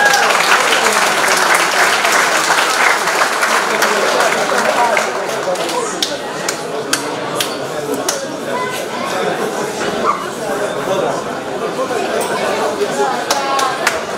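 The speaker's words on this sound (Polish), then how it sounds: "Wielkie brawa!" Crowd applause at an amateur boxing tournament, loud and continuous for the whole span, with scattered cheers and chatter mixed in.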